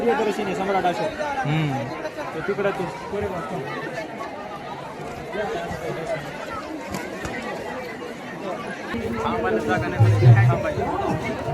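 Dense crowd chatter fills a busy Buddhist vihara at Pangaon in Latur during a commemorative relic viewing, with many overlapping voices and steady murmur throughout, a few nearer voices and shuffling movement standing out.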